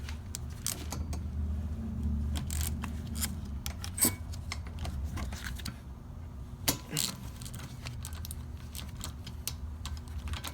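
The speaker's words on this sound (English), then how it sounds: "Loosen up the caliper." Brake caliper bolts are worked loose with hand tools during a suspension replacement, producing scattered sharp metallic clicks and taps, some in quick bursts, over a low steady background hum.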